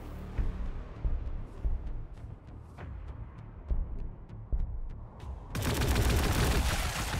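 Gunfire in the strategy game Warhammer 40k: Gladius, a run of separate sharp shots spaced irregularly, then a sudden dense rattle of continuous fire at the end.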